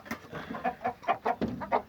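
Breeding Aseel rooster and hen cluck close by in a series of short, repeated calls across a farm setting.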